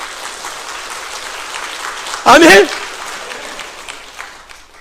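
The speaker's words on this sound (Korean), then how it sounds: "박수 한번 해봐 정말" A church congregation at a New Year revival service at Sarangui Bit Church in Gwangju applauds steadily throughout. A voice breaks in briefly midway and rises above the clapping.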